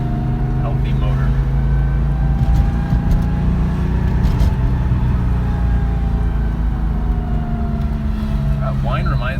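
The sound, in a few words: 1970 Porsche 911S engine running with fan whine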